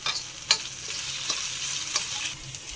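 Potatoes frying in a pan with coconut powder, a bright close sizzle broken by a few sharp stirring scrapes against the pan.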